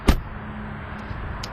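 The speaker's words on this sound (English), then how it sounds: "You can really hear the quality in this car, even in simple things such as closing the door." A single soft, padded thunk as the heavy door of a 2012 Audi A8-L shuts, close and brief, then a quiet cabin hum with faint clicks.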